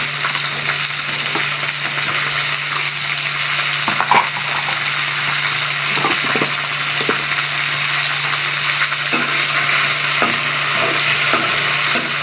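Chicken hits a pan of frying tomatoes and green chilies, giving a steady, close, loud sizzle with scattered crackles and stirring clicks, along with a constant low hum and no talking.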